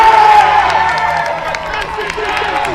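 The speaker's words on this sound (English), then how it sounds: "Big roar from the crowd" A loud, sustained roar from a large crowd at a men's ANZAC Cup match between Australia and France, a dense continuous swell of cheering with a tonal whistle-like note early on.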